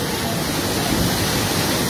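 Floodwater rushing after dams were opened during heavy rain, a steady, dense roar of water filling the clip without break, loud and close, with no voices standing out.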